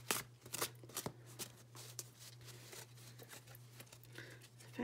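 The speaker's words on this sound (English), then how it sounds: "Cardstock is kind of pretty thin, but it shuffles well." Tarot cards of thin cardstock being shuffled close by, a run of crisp riffling flutters and soft slaps in quick bursts over a steady low hum, with no talking.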